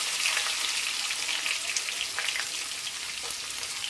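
Curry leaves, dried red chillies and garlic sizzle in hot oil, a steady close crackle with scattered sharp spits and pops, loud and continuous for the whole moment with no voices.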